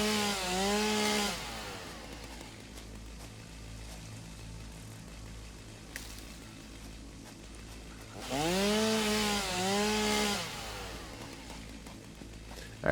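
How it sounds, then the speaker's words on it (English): Video game chainsaw in Satisfactory cutting a tree: two loud revving bursts with a falling, shuddering pitch, separated by a steady lower idle drone, with no talking. "Running around with a chainsaw like this seems ridiculous"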